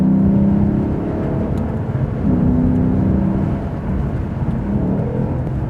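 A 2020 Lexus RC F engine drones steadily and loudly up close, a deep sustained roar with small rises in pitch as it revs, with no talking over it.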